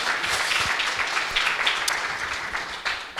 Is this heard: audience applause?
yes